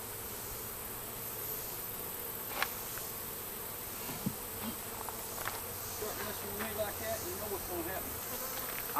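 A honey bee swarm buzzes in a dense, continuous drone, steady and moderately loud throughout, with individual bees occasionally passing closer and a few faint knocks.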